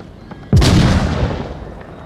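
A single loud rifle shot on single fire in the VR shooter game Onward cracks out abruptly, followed by a long rumbling echo that fades away, with no talking.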